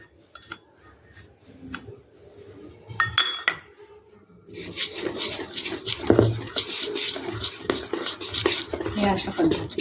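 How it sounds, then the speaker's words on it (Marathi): Dal dhokla batter is mixed with soda water in a bowl. Sparse clinks come first, then quick continuous stirring with metallic scraping and clinking of utensil against the bowl, close and moderately loud. "खायचा सोडा घालून जे पाणी बनवलेलं आहे ते आता मी टाकते आहे पिठामध्ये. आणि हे पटकन फास्टली आपल्याला मिक्स करायचं आहे"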